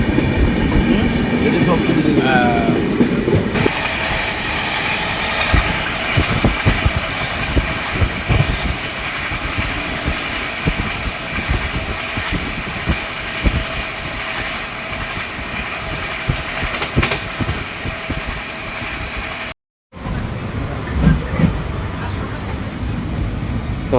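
Inside a fairly empty moving passenger train, a steady rumble and rhythmic clatter of wheels on rails fills the carriage, with brief voices near the start and a short dropout near the end.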